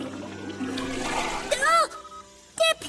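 Water splashing in a children's cartoon, heard as bursts of splashy, bubbling sound with tonal whooshing sweeps, the first following a stretch of quieter ambience and the second coming shortly after.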